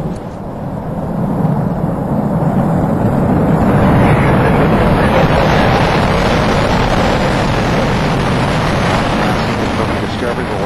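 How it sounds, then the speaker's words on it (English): Space Shuttle Discovery lifting off at night on booster ignition: a dense, continuous low roar that swells within the first second and holds steady and loud, with broadband rumble and buffeting like wind on the microphone. "We have booster ignition and liftoff of the Space Shuttle Discovery lighting up the nighttime sky"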